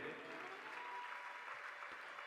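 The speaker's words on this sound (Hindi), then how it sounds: "तालियों के साथ आदर कीजिए" Faint, distant applause from a crowd welcoming a municipal council chairwoman at a religious gathering, a steady even wash of clapping lasting about two seconds.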